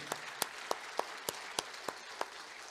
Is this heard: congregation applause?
yes